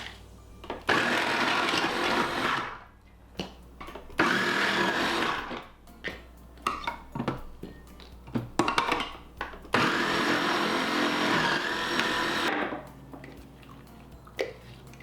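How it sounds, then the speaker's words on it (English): A kitchen food processor shreds food in several loud, whirring bursts, with quieter choppy pauses and clatter between the long runs. "So we're gonna let the food processor do all the work."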